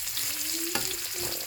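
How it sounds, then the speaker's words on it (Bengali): Onion frying in oil in a pan as a home cook prepares a small-fish (kachki) dish, a steady close sizzle with a brief clattering stir partway through, no voices. "তো আগে পেঁয়াজটা একটু লাল লাল করে ভাজা ভাজা হবে"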